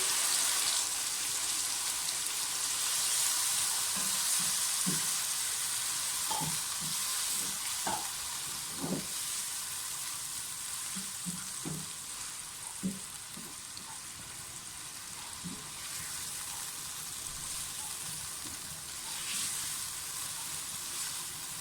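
Marinated chicken fries in a hot pan with garlic, a continuous soft sizzle crackling throughout, broken by scattered clinks and scrapes of stirring.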